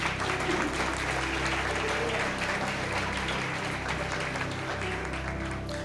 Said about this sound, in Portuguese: Você pode aplaudir o Senhor aí, irmãos?